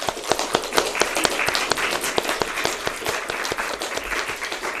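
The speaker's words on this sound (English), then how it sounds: "can we give everyone a round of applause?" A crowd applauds steadily, many hands clapping with a few louder, sharper claps standing out near the front.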